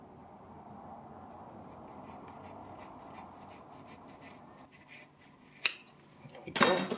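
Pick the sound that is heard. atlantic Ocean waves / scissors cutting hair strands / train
scissors cutting hair strands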